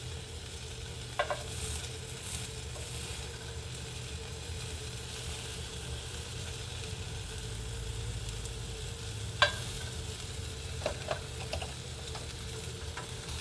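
A vegan spring roll sizzles against the wall of a cast iron skillet, making a steady, moderately quiet frying hiss with a few sharp ticks and pops near the end.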